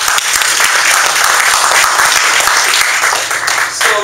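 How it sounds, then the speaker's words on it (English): Audience applause at a business presentation, a dense, steady wash of many hands clapping, loud and sustained throughout, with no pause. "So please give them a big round of applause"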